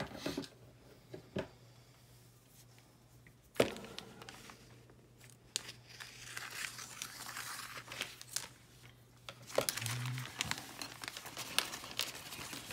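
A plastic bag of model parts and screws for an Eaglemoss Back to the Future DeLorean kit is opened, giving a close, continuous crinkling and rustling with a few sharper snips and crackles and no speech.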